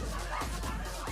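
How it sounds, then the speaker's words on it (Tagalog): A dog barks and yips in a noisy outdoor neighborhood setting, the barks muffled under a constant roar of background noise, with faint voices nearby. "Ay, may aso rin dito eh."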